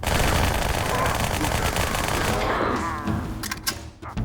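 Dual-wielded guns firing in Halo 2: a loud, continuous stream of rapid automatic fire fills most of the clip, then tapers off into a few scattered shots and clatter near the end.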